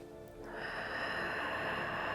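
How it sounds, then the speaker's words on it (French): One long, close inhale swells over about two seconds as a person breathes in during a floor exercise, a breathy airy rush that rises and then holds. "On inspire."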